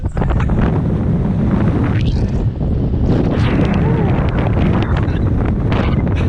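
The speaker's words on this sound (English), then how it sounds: "Some strong wind." Strong wind buffets the microphone on a mountain summit in Wales, a loud, steady roaring rush that fills the whole clip with only a brief lull midway.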